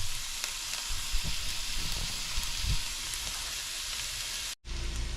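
Onions sizzle and fry steadily in a pan for Guyanese metemgee, a close, continuous crackling hiss that cuts out briefly near the end before resuming.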